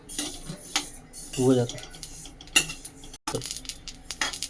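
Sesame seeds roasted in a pan for Sankranti til ladoos are stirred with a spoon, producing scattered scraping and clinking against the metal, with a brief voice partway through.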